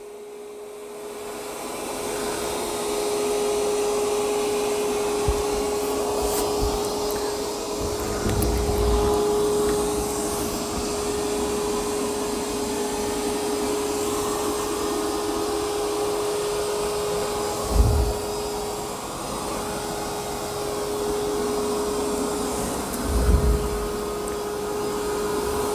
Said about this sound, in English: I'd say it did an excellent job of vacuuming this carpet. It's a little noisy.